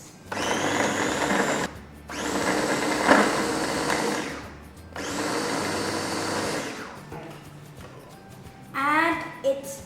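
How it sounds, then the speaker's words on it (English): A blender powdering bread whirs loudly in three long bursts with short pauses between, followed by a brief clatter at the end. "You can also use your blender to powder the bread."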